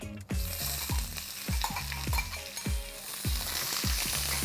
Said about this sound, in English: Let's fry these onions till they are nice golden and crisp.